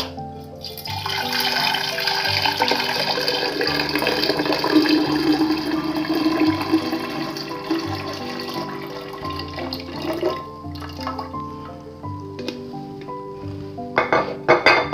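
Tepid black tea being poured while making kombucha, a steady liquid splash and trickle for most of the stretch, with a few clinks of kitchenware near the end.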